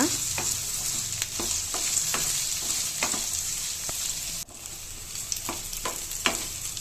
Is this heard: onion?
yes